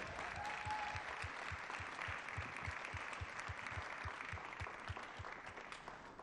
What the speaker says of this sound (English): let's keep that applause going as they make their way towards the front of the stage.